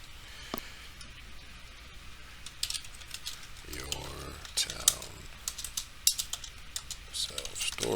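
Typing on a computer keyboard, soft close key clicks in irregular bursts of keystrokes with quiet room tone between them.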